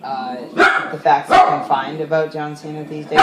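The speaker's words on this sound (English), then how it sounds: "So if you hear barking, it's probably him saying hi or something." A dog named Stewie gives a few short, close barks that cut in between and under a man's steady conversation.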